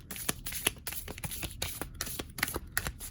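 A deck of tarot cards is shuffled by hand, with a quick run of crisp, rhythmic riffling slaps and slides close up and no talking.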